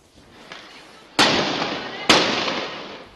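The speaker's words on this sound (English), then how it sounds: "masked men hurled firecrackers and stones at a Jewish kindergarten" Firecrackers thrown at a neighborhood kindergarten burst as two loud, sharp bangs about a second apart, each with a long echoing decay, after a faint earlier pop.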